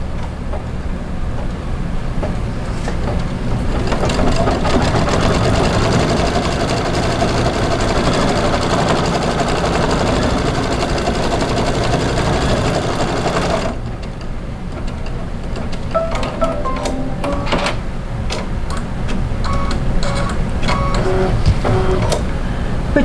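A home embroidery machine stitching a light gray placement line for background fabric on a hoop, a steady rapid mechanical chatter running throughout with rhythmic needle pulses and a brief shift in tone midway.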